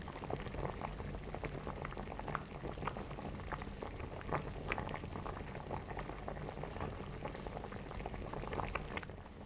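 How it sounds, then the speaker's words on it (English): Beer bubbles at a steady rolling boil in a pot for crab legs, a dense continuous gurgle with scattered pops and splashes close by, no voices over it. "Once the beer begins to boil, add your crab legs."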